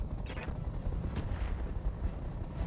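Weapon fire from mechs in the RogueTech battle game, a dense rumbling barrage of booming shots and blasts rolling continuously, loud and close with no talk over it.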